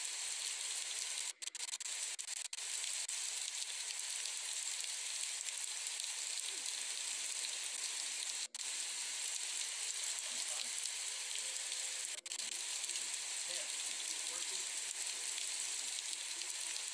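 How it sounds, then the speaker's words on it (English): Heavy rain pounds the ground in a steady, dense hiss that stays loud and unbroken throughout, with a few faint clicks and no voices. "The rain hit the ground hard"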